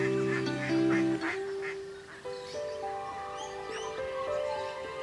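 Indian runner ducks kept in a cottage garden quack and honk several times in quick succession, loud and close, with overlapping calls in the first seconds and scattered quacks after.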